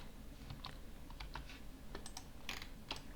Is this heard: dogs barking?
no